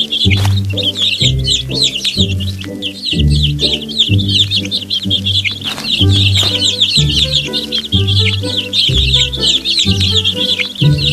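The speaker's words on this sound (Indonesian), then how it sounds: "Ayo beri makan anak-anak burung yang lapar itu dengan biji-bijian." Cartoon chicks and fowl cluck and chirp for food in a children's alphabet learning game, loud repeated tweets over a bouncy musical backing.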